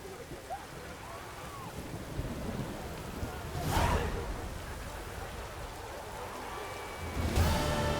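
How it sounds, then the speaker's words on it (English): Thunderstorm with rain in The Witcher 3 game, a steady hiss of rain with two rolling thunder rumbles, one midway and one near the end, moderately loud. "A storm, damn it."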